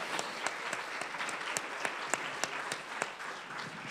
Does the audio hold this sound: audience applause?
yes